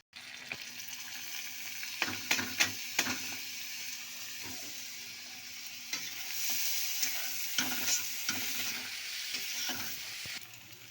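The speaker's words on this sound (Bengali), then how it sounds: "এরপর আমি তড়কার ডালটা দিয়ে দিচ্ছি" Dal poured into hot oil for an egg tarka, cooking with a steady sizzle and frying hiss throughout, broken by several sharp clatters of stirring and spoon strikes against the pan, close and moderately loud.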